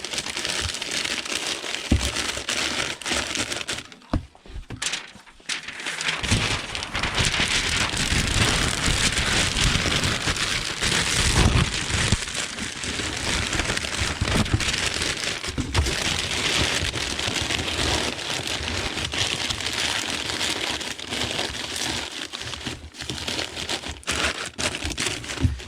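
LP vinyl records are wrapped in packing paper, giving close, continuous crinkling and rustling with a brief lull about four seconds in. The paper noise then carries on at a steady level with no speech.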